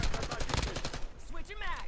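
Rapid gunfire bursts in the Warzone video game, loud and dense at the start and then easing, with a game voice line speaking near the end.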